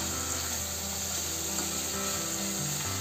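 Two medium-sized cut tomatoes sauté in hot oil for chicken masala, giving a steady continuous sizzle with faint scraping and clicking of a utensil, close and even, with no talk.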